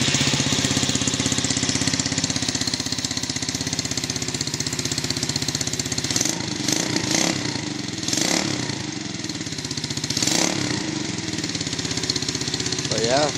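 The rebuilt engine of a 1971 Honda CT-70 minibike runs at close range with a steady, buzzing, slightly knocking idle and a few quick throttle blips, while someone talks over it.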